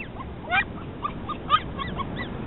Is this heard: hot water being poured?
no